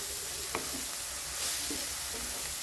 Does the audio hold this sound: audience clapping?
no